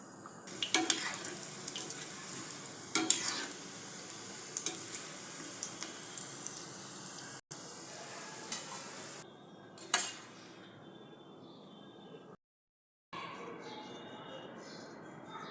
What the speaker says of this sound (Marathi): तेल गरम झाले कोपते तळून घेते